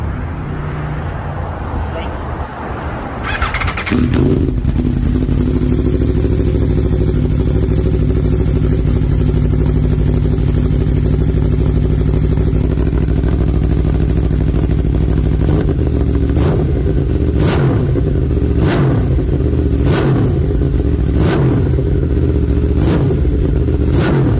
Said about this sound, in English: this is the Akrapovic Slip On Exhaust system